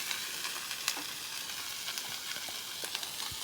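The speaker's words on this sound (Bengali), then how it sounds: "এই যে পেঁয়াজগুলো দিয়ে দিন, একটু ভালো করে ভেজে নেবো আমি" Onions fry in oil in a pan with a continuous close sizzle and crackle, plus faint stirring scrapes and small pops, with no one talking.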